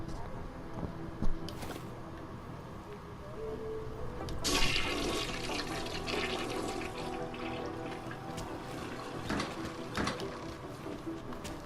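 A toilet flushes in Deus Ex: Mankind Divided, a sudden rushing surge of water that swells and then drains steadily over several seconds, close and clear, after a brief click.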